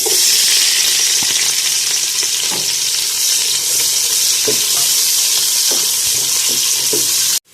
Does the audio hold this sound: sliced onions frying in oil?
yes